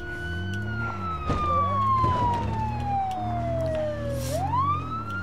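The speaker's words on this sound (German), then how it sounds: "Ein typischer amerikanische Sirene eben." An American emergency siren wails in the Project Zomboid video game, a steady descending tone that sweeps back up near the end, heard at moderate distance over a low rumbling hum.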